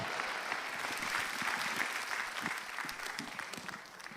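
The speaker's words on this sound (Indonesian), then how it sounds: "Tepuk tangan untuk Aldo." Studio audience applause on a stand-up comedy show, a full, even burst of many people clapping heard at low level, holding steady and tapering slightly toward the end, with no talking over it.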